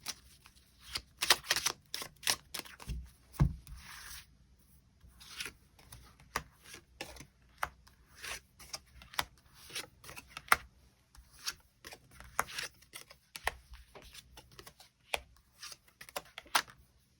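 Tarot cards are shuffled and drawn, producing soft rapid riffles and flicks followed by scattered taps and card slides, close and quiet with no speech.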